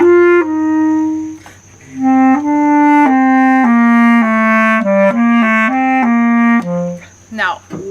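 A bass clarinet plays a slow, legato etude phrase of sustained notes with rich, reedy harmonics, close and clear, with a short breath-like break and no talking.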